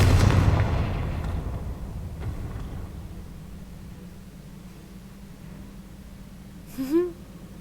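A heavy blast from the Confringo spell in a Harry Potter video game opens loud and booming, then fades into a long rumbling decay, with a brief whooshing magical effect rising near the end.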